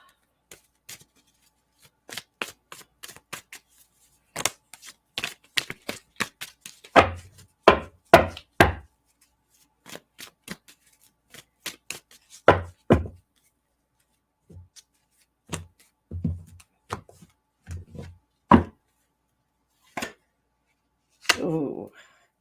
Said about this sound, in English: I shuffled these cards.